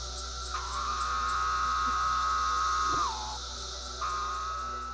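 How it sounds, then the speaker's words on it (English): A Magicicada septendecim periodical cicada calls loud and close, a sustained buzzing tone that falls away at the end, then starts again after a short break. "Magicicada septendecim makes a call that sounds like the word pharaoh."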